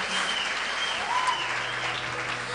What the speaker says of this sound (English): Clap your hands for Dr.